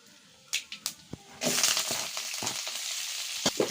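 Chopped onions and green chillies drop into hot oil with a few light taps, then burst into a loud, steady sizzle that continues with occasional stirring scrapes while upma is prepared.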